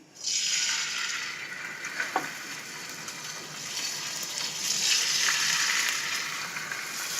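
Lamb chops searing in an oiled frying pan, a steady loud sizzle that swells as the meat hits the hot oil and holds with crackling spits.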